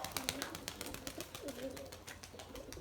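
Young pigeons coo softly in short repeated phrases close by, with light rustling and chirps around them and no talking.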